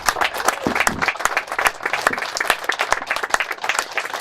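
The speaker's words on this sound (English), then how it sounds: "yes, we should applaud them" A rally crowd at a Morrisville counter-rally applauds in dense, continuous clapping that stays loud and steady throughout, with no talk over it.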